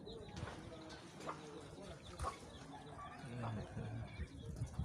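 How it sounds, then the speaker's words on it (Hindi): Pigeons of good breed cooing in cages on a home poultry farm, soft repeated coos under faint background voices and other bird calls. "कबूतर भी अच्छी नस्ल के रखे गए हैं।"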